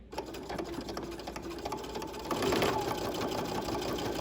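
A sewing machine runs steadily and close, stitching along a back stitch while sewing a welt pocket, with a continuous rapid mechanical chatter that grows slightly louder midway.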